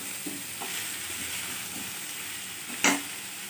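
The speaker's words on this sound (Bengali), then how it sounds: "আবার একটু ভালো করে কষে নেব, তারপর দিয়ে দেবো টমেটো" Tomatoes fry with spices in a pan, giving a steady soft sizzle with a few light stirring taps and one sharper clink near the end, close and without talk.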